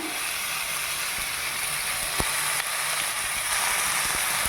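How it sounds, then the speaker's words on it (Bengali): Ginger paste frying in a pan with soyabean pieces, turmeric and salt, a dense continuous sizzle with occasional faint scrapes and taps as it is stirred with a spatula. "আদা বাটা দিয়ে দিলাম। নাড়লাম ভালো করে খুঁটি দিয়ে।"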